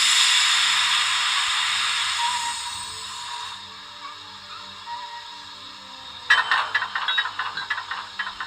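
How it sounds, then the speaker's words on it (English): Manual brake on an Ellis Clark Black 5 model steam locomotive in a garden railway setting: a steady hiss fades, then a sharp mechanical onset gives way to a rapid run of ratcheting clicks and clanks, fairly close. "move the loco towards the stock and operate the manual brake"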